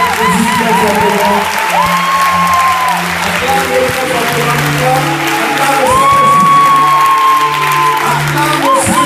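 A church congregation applauds and cheers for Jesus Christ, sustained loud clapping with whoops and shouts filling the room, while a voice sings or calls out over the crowd.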